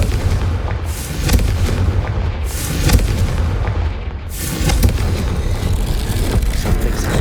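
A Confringo spell explosion booms in Hogwarts Legacy, part of a string of loud deep blasts with sharp crackling bursts and rumbling decays, close and forceful, with no talking.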